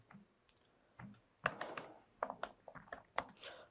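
Code being typed on a computer keyboard: uneven clusters of quick, close key clicks with brief pauses between bursts, moderately quiet and with no voice.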